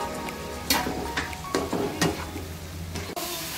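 Chopped onion, tomato and green chili frying in a pan for macaroni, a steady sizzle broken by repeated scrapes and stirs of a spoon against the pan.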